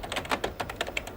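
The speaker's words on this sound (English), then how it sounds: "Let's see what my typing skills are like." Typing on a computer keyboard in a 1996 television studio segment, a close, brisk run of irregular clicking keystrokes with no talk.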